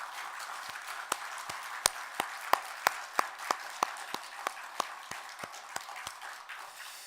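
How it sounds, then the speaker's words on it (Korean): A church congregation at a worship service applauds in praise, with sparse, sharp individual claps ringing out at an uneven rhythm over a quiet, reverberant room rather than a dense ovation. "하나님께 영광의 박수를 올려드리겠습니다."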